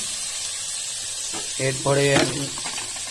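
Vegetables for a tomato and pointed gourd paturi sizzle steadily in hot oil as they are stirred, a continuous broadband hiss with some brief clatter. A voice speaks over it in the middle.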